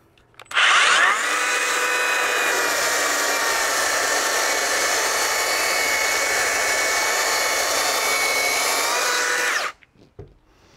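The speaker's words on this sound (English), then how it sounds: "I actually will turn the saw or the sander around and just work it in this direction" A power sander works over weathered deck boards outdoors, starting with a sharp rise into a steady, loud, high whine that holds for about nine seconds before cutting off, with no talking.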